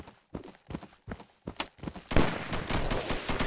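Sniper gunfire during a multiplayer shooter raid: a series of sharp, separate cracks in the first two seconds, then a dense burst of loud overlapping gunfire and noisy action filling the rest.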